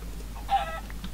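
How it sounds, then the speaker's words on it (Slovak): A chicken in the video game Minecraft gives a single brief cluck, fairly faint over a low steady background hum. "Áno, tam je ešte jedna sliepka. A tu je ďalšia sliepka."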